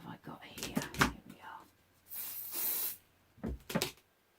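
Liquid is sprayed onto a textile art piece in a single hissing burst of about a second, close by, between stretches of a person talking.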